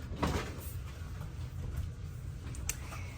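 Drawers in a Carnival Horizon cruise ship cabin slide and knock shut a few times, short wooden bumps and scrapes over a steady low room hum.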